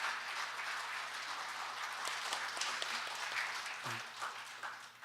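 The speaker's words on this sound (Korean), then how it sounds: "이 청년과 함께 큰 박수 한번 쳐주시면 좋겠습니다" An audience applauds steadily in a hall at a book concert, a dense wash of clapping that stays even throughout.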